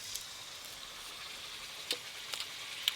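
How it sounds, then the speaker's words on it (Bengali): Fish roe frying in a hot pan with turmeric and salt, a faint steady sizzle with a few soft crackles and pops, close by and alone. "গরম গরম ডিম ভাজা।"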